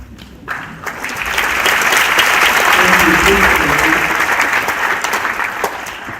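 Applause at an induction ceremony for newly qualified physician assistants rises quickly from a brief quiet into loud, dense clapping that fills the hall and stays strong for several seconds.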